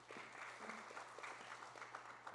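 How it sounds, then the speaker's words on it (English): Guests at an anniversary charity gala clapping, a faint, fairly distant ripple of applause over a low steady hum in the room. "thank you not just for the round of applause"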